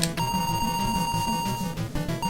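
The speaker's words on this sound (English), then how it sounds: "Is a bell ringing?" A steady electronic bell-like tone rings continuously in a video game with sticky platforming controls, a single sustained ring layered over busy game music and effects, with no talk.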